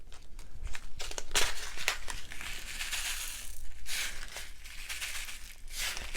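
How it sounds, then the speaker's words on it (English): Pearl glass dots, sequins and glitter mix sprinkled by hand into a paper shaker card, giving a steady run of light crinkly rustles and tiny clicks up close, with no talking. "So I'm just kind of sprinkling all these in here."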